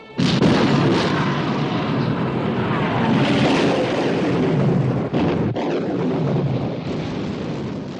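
Heavy naval artillery gunfire in a 1960 war film about the Bismarck, a dense roaring blast that sustains loud and broad for several seconds, with a sharp dip and renewed rumble near the end.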